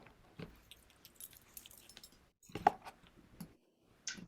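A glass of water handled during an opening ritual, giving a few light clinks and taps spaced out over a quiet room, with a brighter chink near the end.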